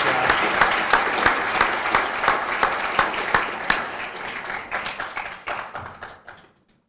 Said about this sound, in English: We're forgetting the applause.